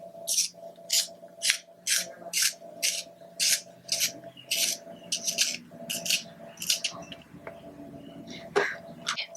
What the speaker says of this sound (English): let me find a sharpener real quick to sharpen my line, to sharpen my liner real quick